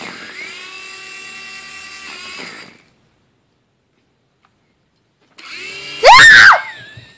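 A toy helicopter's rotor whines steadily at a high pitch for a few seconds, cuts to silence, then starts again and rises into a sharp, loud burst of whirring.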